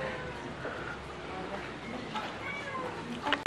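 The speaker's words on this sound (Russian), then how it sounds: "Собственный кот. Что-то как мявкает." A cat meowing at a resort villa pool area in Greece, faint and somewhat distant under ambient noise, with a few short mews near the end.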